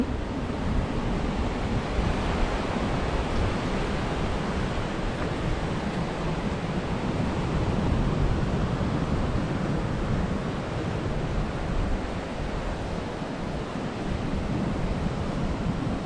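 Continuous roar of sea surf washing against the shore at Koh Lanta, Thailand, steady and fairly loud, mixed with rushing wind noise.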